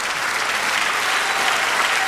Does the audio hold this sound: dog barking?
no